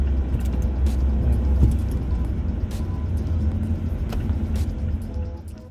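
Steady low diesel engine drone from inside a moving 2020 Mazda 6 sedan, constant and close, with faint clicks and rattles over it.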